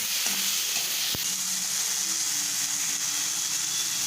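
Vegetables for soya chilli, salted, are stirred and sizzle in a hot pan; a steady close frying hiss runs throughout, with a sharp utensil knock near the start and faint scraping as they are tossed.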